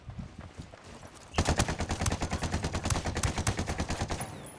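Sustained automatic gunfire in the squad shooter Ghost Recon Wildlands, a quiet lead-in and then a rapid, steady burst of close, loud shots lasting several seconds.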